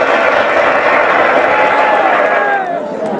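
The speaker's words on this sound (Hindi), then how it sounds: "तालियों की जबरदस्त गड़गड़ाहट है यहाँ पर।" A large crowd at a kabaddi semi-final match roars and cheers in a continuous, dense wash of noise. The sound stays loud and steady throughout and eases slightly near the end.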